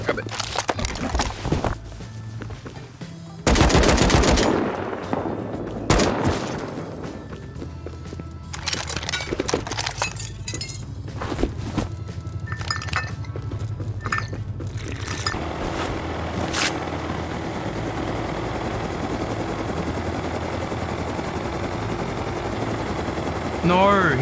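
Gunfire in the survival game Rust comes as a few loud, sharp bursts early on, then scattered lighter shots and clatter over a constant background bed. Voices talk between the shots.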